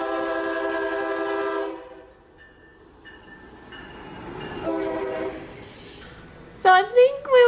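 A train horn sounds in a long steady blast, then softer tones and rail rumble follow, with a squealing pitch-swept screech near the end and people talking faintly.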